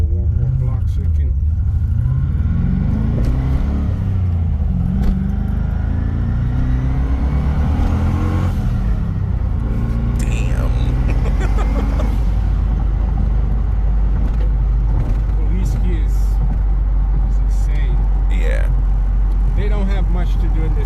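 Twin-turbo LS-swapped BMW E36 driving through town, a steady low engine rumble with rising revs early on, close and continuous, with a person talking over it.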